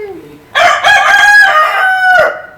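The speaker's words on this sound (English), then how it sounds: "Here's the cockerel. He's noisy, isn't he?" A cockerel on a family farm crows loudly and close by: one long, rising and falling cock-a-doodle-doo after a brief quiet start, with a faint bit of background chatter.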